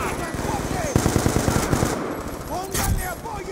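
Rapid rifle fire from the video game Call of Duty Black Ops 2 crackles in a quick run of shots, loud and close, amid game sounds, with voices briefly heard underneath.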